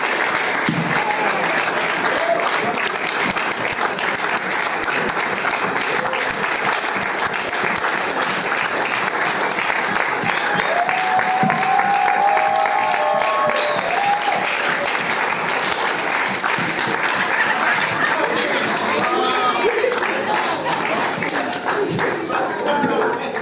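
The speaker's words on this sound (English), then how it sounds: "can we stand up? And give them a round of applause" A standing audience at an environmental degradation roundtable on tree felling gives the speakers loud, sustained applause, a dense, close field of clapping that stays strong without a break, with a few voices rising under it.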